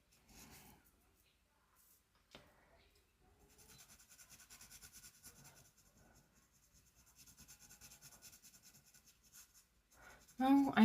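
4H graphite pencil shading on drawing paper, a soft, steady scratchy rasp in long continuous stretches with brief pauses, close up and fairly quiet, ending in a louder bump.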